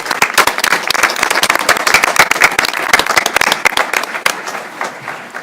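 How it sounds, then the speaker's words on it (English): Audience applause at a regular monthly board meeting, a dense spread of many hands clapping close by for several seconds, thinning slightly toward the end. "So if we could give her another round of applause as she's leaving the stage."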